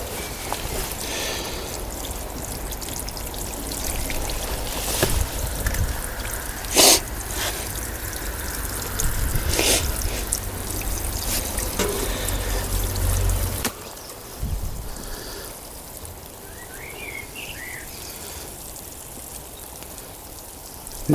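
Water pouring from a watering can onto a vegetable plot, a steady close trickling splash that runs for several seconds, stops abruptly, then leaves quieter outdoor ambience.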